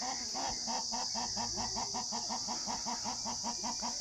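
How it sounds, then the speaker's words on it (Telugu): Bhimavaram rooster and a group of hens cluck in a steady, repeating rhythm close by, with no talking. "భీమవరం పుంజు పది పెట్టెలు సేల్స్ కోసం పెడుతున్నాను"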